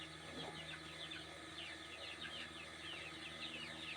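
Chickens of a self-bred flock cluck and chatter in a farm shed, several birds calling in quick overlapping bursts over a low steady background hum, with no talking.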